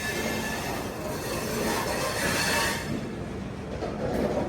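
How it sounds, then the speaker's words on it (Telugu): Pune–Howrah Azad Hind Express rolling in alongside on the adjacent platform, a dense steady roar of wheels and carriages with high metallic squealing, close and continuous without voices. "మా పక్క ప్లాట్ఫామ్లోకి పూణే నుంచి హౌరా వెళ్ళే బండి అయితే వస్తుంది"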